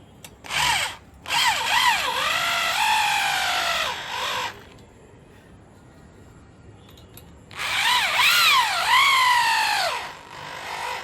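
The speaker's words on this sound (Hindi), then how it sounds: "ड्रिल मशीन से ही इसको टाइट कर लेंगे" A power drill whirs in bursts as it tightens screws on a dish antenna mount, with a short pulse, a longer rising-and-falling run, a pause, then another extended run, close and loud without speech.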